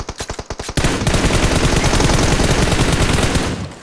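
Gunfire in PUBG Mobile: a few quick single shots, then a long, loud, close automatic burst of rapid fire that holds steady for about three seconds before tailing off.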